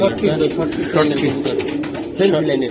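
Giribaz chila pigeons cooing at a sale, soft repeated coos close by mixed with people talking over them.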